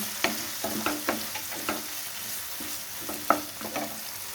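Banana flower curry sautés in a pan with a low, steady sizzle under repeated spoon or spatula scrapes at an uneven pace, heard up close with no voices.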